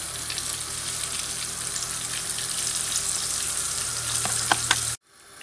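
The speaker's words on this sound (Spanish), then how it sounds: "la segunda tanda ya está frita" Mackerel pieces fry in hot oil in a pan, giving a steady close sizzle with a few sharper pops near the end before it cuts off abruptly.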